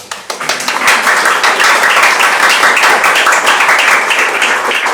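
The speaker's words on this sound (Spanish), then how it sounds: "un aplauso para todos acá" An audience at an education talk applauds, producing dense, loud, steady clapping that fills the whole stretch without letting up.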